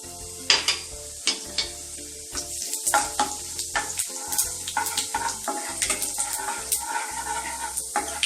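Cumin seeds crackle and sizzle as they hit hot cooking oil, with sharp popping bursts over a steady frying hiss, close and moderately loud, no talking.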